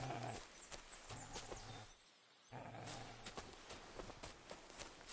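A horse in Kingdom Come Deliverance 2 moving along with soft clip-clopping hoof steps and shuffling, quiet and fairly close, with a short lull partway through before the steps resume.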